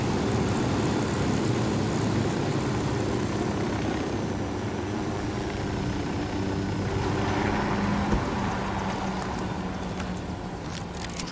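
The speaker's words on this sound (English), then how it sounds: "Drone is airborne." A drone in the video game Ghost Recon Wildlands, taking off and flying with a steady, whirring rotor drone that holds at a constant close level throughout.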